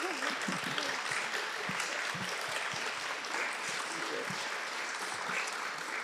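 Sustained applause from an audience at a fashion talk with a designer and color theorist, dense and steady throughout, filling the room without pause.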